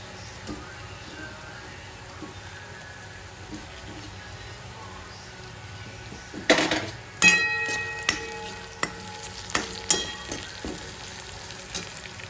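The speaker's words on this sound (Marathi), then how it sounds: "कांदा मस्त असा लाल झालाय आता मी मिरची टाकून घेते" Chili goes into onion already fried red in hot oil, bursting into loud crackling sizzle after a quieter stretch, with repeated sharp clinks of a spoon against the pan.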